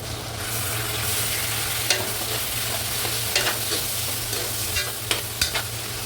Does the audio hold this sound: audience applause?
no